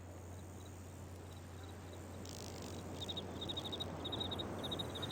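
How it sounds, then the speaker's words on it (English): Insects chirp in quick pulsing bursts over a low steady hum in the outdoor island scenery of the adventure game Riven, faint at first and growing denser and closer toward the end. "I'm hearing bugs"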